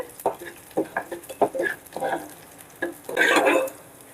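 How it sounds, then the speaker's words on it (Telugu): Small-cut ginger pieces frying in a pan for foxtail millet pongal, with crackling sizzles and scattered stirring scrapes, ending in a louder burst of frying. "అల్లం ముక్కలు చిన్నగా కట్ చేశాను, అవి వేసేసుకుందాం."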